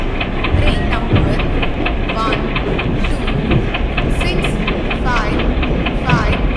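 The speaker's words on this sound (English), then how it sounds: "Passenger express is arriving at platform number 1." In Indian Train Simulator, a passenger express train rolls into a station with rhythmic clicking and a low rumbling engine, while a public-address voice announces platform arrivals over it throughout.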